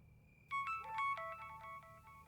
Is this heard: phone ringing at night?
yes